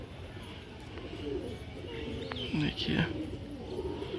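Pigeons calling in a short burst of coos and soft chirps, with someone speaking Hindi over the birds outdoors during a pigeon-flying session.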